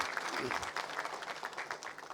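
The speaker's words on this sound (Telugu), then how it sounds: "మనం అందరం ఒకసారి గట్టిగా చప్పట్లతో మనం అన్నకు కృతజ్ఞత" Audience applause at a BRS political meeting, steady clapping from a crowd sustained through the moment with a dense, even texture of many hands.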